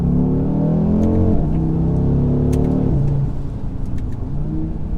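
A 2021 Audi RSQ3 compact SUV engine heard from inside while driving gently, a smooth rising hum through several gear changes, steady and fairly loud, with a few light clicks and no talking.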